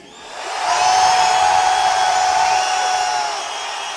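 A concert crowd at a show near Detroit swells into a loud, sustained roar of cheering and yelling that holds steady for several seconds before easing slightly.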